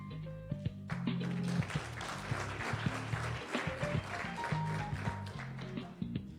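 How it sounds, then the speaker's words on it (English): Applause at a CEO Africa Roundtable Botswana chapter launch ceremony, scattered claps and taps over sustained musical tones, with sharp individual hits standing out amid the background. "A great round of applause."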